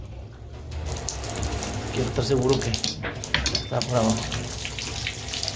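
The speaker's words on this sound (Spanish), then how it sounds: "Entonces vamos a sacar mejor el agua caliente por aquí, por abajo." Hot water running out of the bottom outlet of a gas boiler water heater being replaced, a steady splashing flow close by with someone speaking over it.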